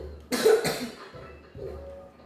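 A person with a persistent cough while playing Nintendo Switch Sports lets out two harsh, close coughs in quick succession, followed by a softer one a moment later.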